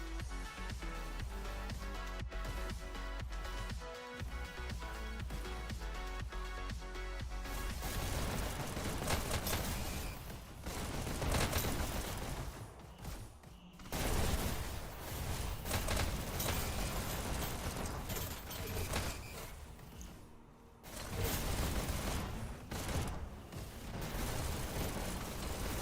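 Competitive VR shooter esports match: a chaotic stream of gunfire, with shotgun blasts, rocket explosions and pistol shots piling up into a dense, booming barrage without pauses, with no voices over it.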